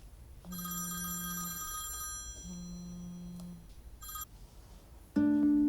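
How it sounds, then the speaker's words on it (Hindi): A telephone bell rings in repeated trilling bursts, quiet and somewhat distant, ending in a louder abrupt tone, with no voices heard. "फोन पे नहीं उठा रही, कितनी बार कॉल कर चुका है वो।"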